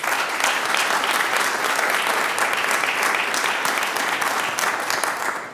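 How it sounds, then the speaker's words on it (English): Sustained applause in the room at a Trinity Metro Board of Directors meeting, a dense, even wash of many hands clapping that holds steady and tapers slightly at the end. "let's give Eva a round of applause"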